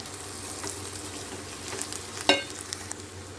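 Chopped sorrel (gongura) greens are stirred into a frying onion tempering, with a close, soft continuous sizzle. A single sharp metallic clink of the spoon against the pan sounds partway through.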